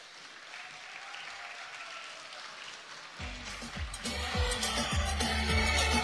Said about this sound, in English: Ladies and gentlemen, a round of applause for Camilla Hansen.